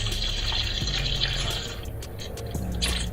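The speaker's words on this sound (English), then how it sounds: "Oh shit, it's like splashing all over the place." Hot motor oil drains from the underside of an A90 Supra during an oil change and splashes onto cardboard, giving a steady, close, broadband liquid rush with spattering.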